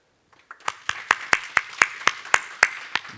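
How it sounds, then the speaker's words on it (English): An audience at a fireside chat on Ethereum gives a short round of applause, about a dozen distinct, evenly spaced claps ringing out one after another with no talk over them. "round of applause for Łukasz"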